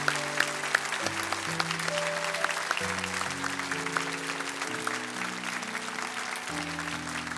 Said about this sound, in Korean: 우리 다시 한 번 더 큰 박수로 축복하면서